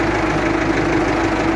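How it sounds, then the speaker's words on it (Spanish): A Ford 6610 tractor engine runs steadily while the tractor drives along in gear, a close, continuous low drone with a rough knocking texture. "Ahí vemos que el tractor se desplaza un poco más rápido"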